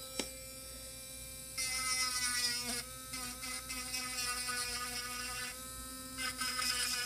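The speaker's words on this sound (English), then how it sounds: "sorry about the Dremel, guys." A Dremel rotary tool files down gel nails with a steady high-pitched whine over a low hum. It starts and stops a few times at close range, and no one speaks.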